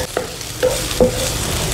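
Ginger sautéing in hot oil in a pan, a loud, close, continuous sizzle with a few brief knocks and scrapes of stirring over it.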